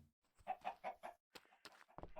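Chickens from a spawner in the Minecraft video game cluck in a quick burst of four or five notes, followed by a few scattered clucks and rustles. Quiet and close, with no voices.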